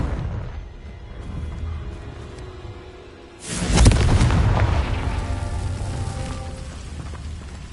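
A single powerful Confringo spell explosion in Hogwarts Legacy bursts out after a few quiet seconds, loud and booming, then rolls into a long, fading rumble.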